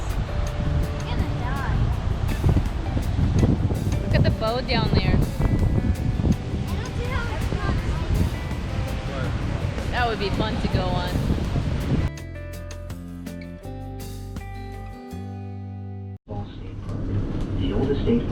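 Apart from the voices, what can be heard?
rushing water at Niagara Falls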